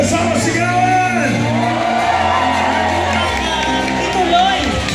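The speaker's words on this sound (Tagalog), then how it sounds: "Palakpakan naman kasama sigawan!" A large crowd at a rally in Liwasang Bonifacio shouts and cheers continuously, a dense, loud wall of voices with overlapping yells and whoops throughout.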